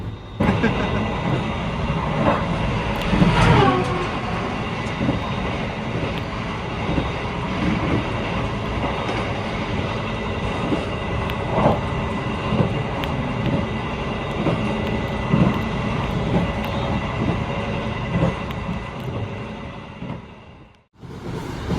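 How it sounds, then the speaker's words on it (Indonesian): The Gumarang passenger train rolls steadily along the rails arriving at Babat Station, a continuous loud rumble with rhythmic clatter and occasional squeals, ending abruptly with a brief dropout. "Stasiun Babat kereta api Gumarang masuk pada pukul 15:57."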